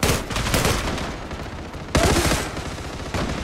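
Sustained automatic gunfire from the online shooter Zula, loud and dense throughout, with a fresh burst starting partway through and another near the end, close and unbroken.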